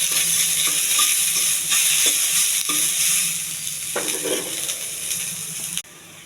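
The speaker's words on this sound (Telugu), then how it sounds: "కొంచెం జీలకర్ర, కొన్ని ఆవాలు, కరివేపాకు, కోసి పెట్టుకున్న ఉల్లిపాయ ముక్కలు ఇవన్నీ వేసి కొంచెం సిమ్లో ఏగనివ్వాలి." Cumin, mustard seeds, curry leaves and chopped onion sizzling in a pan over a low flame, a steady hiss broken by a few spoon stirs and scrapes, loud and close.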